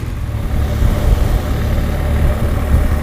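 A BMW R1200 GS motorcycle engine idles close by with a steady, low rumbling throb that holds an even level throughout, with no voices.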